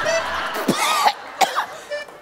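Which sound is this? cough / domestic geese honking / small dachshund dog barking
cough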